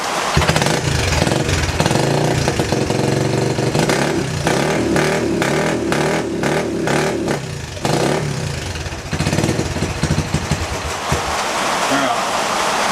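A 1979 Honda ATC110 three-wheeler engine runs loud and close, revving up and down in throttle bursts with a rough, buzzy note over a few seconds.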